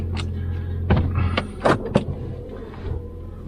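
A Lexus UX 250h hybrid locks up with short mechanical clunks and faint beeps, a few brief clicks spaced over a couple of seconds against a low steady hum, fairly close and moderate in level.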